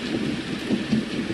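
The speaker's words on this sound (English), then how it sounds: "So you got a little bit of thunder with the rain." A Renpho white noise machine plays rain with thunder, a dense, steady hiss of rainfall layered over low rumbling that swells and fades, continuous and close.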